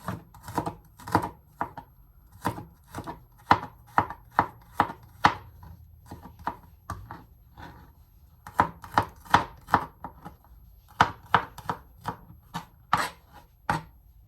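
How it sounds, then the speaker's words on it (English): A knife chops garlic on a cutting board in quick clusters of sharp, close thwacks, pausing briefly between bursts, with no one speaking. "Now I have some garlic. I'm just going to chop."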